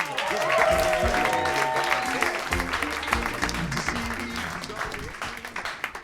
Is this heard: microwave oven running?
no